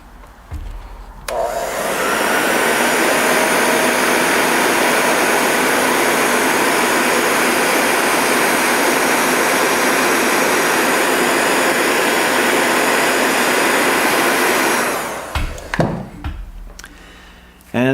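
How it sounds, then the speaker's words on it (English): A malfunctioning heat gun, used during a stereo install in a 1993 GMC 4x4 truck, switches on with a click and blows a loud, steady roaring hiss for about fourteen seconds before cutting off abruptly. "We got a heat gun malfunction."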